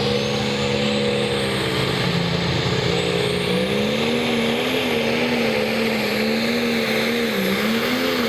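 An engine on a truck and tractor pull machine revs hard during its break-in run, a loud, continuous, wavering roar close by with no talk.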